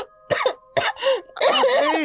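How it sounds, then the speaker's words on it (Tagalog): Someone coughs in a few harsh, throaty bursts with brief pauses, close by, then breaks into a longer strained, voiced cough or throat clearing that runs into the end. "naririnig ang pag-ubo"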